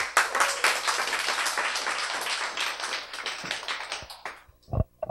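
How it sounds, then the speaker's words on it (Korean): An audience at a Korean talk event claps to welcome a guest to the stage, scattered close hand claps that thin out near the end into a few separate taps. "우리 이명일님 박수로 맞이해 주시기 바랍니다."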